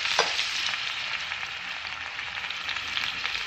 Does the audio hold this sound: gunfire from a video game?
no